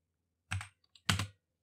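Two brief clusters of computer keyboard keystrokes, close and fairly quiet, separated by a short pause, with no talk.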